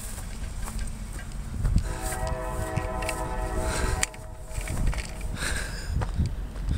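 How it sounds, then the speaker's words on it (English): Norfolk Southern local freight train P36, led by an SD40E locomotive, rumbles past on the NS R-Line at Rock Hill, South Carolina, with a sustained horn blast in the middle over steady low rail noise. "They got this local train P36. Coming southbound past Sail River"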